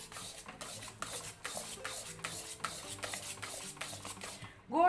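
A spoon or spatula scrapes rajgira flour halwa around the sides of a hot kadai over a low gas flame, a steady series of rough rhythmic strokes with soft metallic scrapes, ending on a brief clatter.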